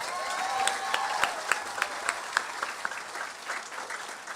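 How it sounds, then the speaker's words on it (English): Applause from a high school graduation crowd, a thinner spread of claps with distinct sharp individual hands standing out, steady at first and gradually tapering off. "Let's give ourselves a round of applause"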